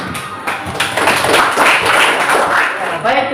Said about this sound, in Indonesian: tepuk tangan dulu buat kelompok 4